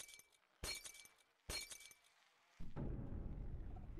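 Glass bottles break in Happy Wheels: two sharp shattering crashes about a second apart, followed by a steady rumbling wash of noise, with no talking.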